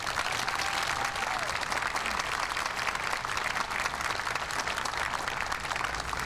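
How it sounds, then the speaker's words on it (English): Outdoor crowd applauding steadily at a JFK tribute statue dedication in Fort Worth, a dense, even wash of clapping that holds for the whole stretch without a break. "They deserve a round of applause"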